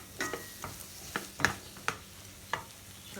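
Spatula scraping and clinking against a pan as Chinese fried rice with vegetables is stirred, several sharp separate strokes over a quiet background.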